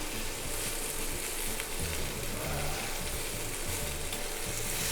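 Chopped okra fries in a pan with a steady, close sizzle and crackle that holds constant throughout, broken by occasional stirring.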